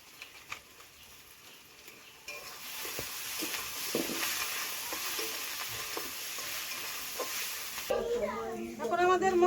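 Spice paste with turmeric and cumin powder being sautéed in a pan for a Bengali crab curry, with a low, steady sizzle and occasional spatula taps, close and fairly quiet, before a voice briefly cuts in at the end.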